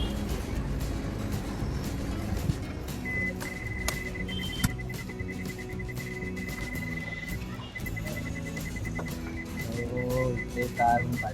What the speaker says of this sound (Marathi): तर आता माझी वेळ आहे कार पाठी घ्यायची.